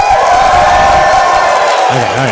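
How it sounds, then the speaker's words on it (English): Audience at a PAX Unplugged 2018 panel cheering loudly for the potion, a dense, sustained roar of whoops, shouts and clapping from a packed room, tailing off into a few voices at the end. "Can we have one more cheer for potion?"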